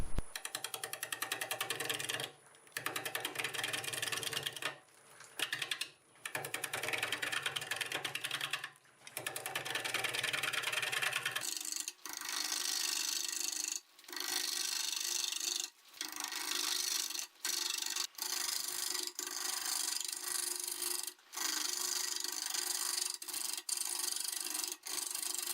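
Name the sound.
wood lathe turning olive wood at 590 RPM with bowl gouge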